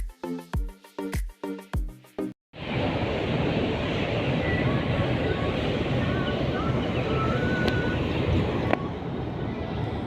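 Steady broadband rush of wind and waves at sea aboard the passenger ferry KM Dharma Ferry 7, loud and continuous, preceded by a couple of seconds of talk.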